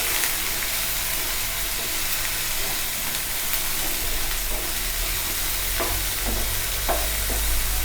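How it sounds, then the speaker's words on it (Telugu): Bottle gourd pieces fry in oil in a pan with a steady, even sizzle and a few faint stirring clicks, without any talk. "ఈ పొట్లకాయ ముక్కలు కూడా పచ్చివాసన పోయేంత వరకు బాగా ఫ్రై చేసుకోవాలి"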